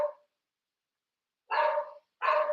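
A dog barks twice in a home kitchen, two loud close barks after a quiet gap, with a brief trailing sound at the very start and no talk.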